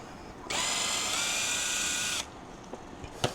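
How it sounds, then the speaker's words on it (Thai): A cordless drill-screwdriver whirs in one steady high-pitched burst of under two seconds while backing screws out of a Shad TR55 motorcycle top box, followed by a few small clicks. "ไขควงนี้ก็ดีนะ เป็นไขควงที่แบบเป็นสว่านได้"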